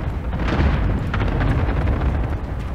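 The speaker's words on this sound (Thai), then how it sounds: "นั่นเนี่ยปาระเบิดมาครับ" A grenade explodes during a competitive video game match, making a loud, sustained booming rumble that fills the short moment without speech.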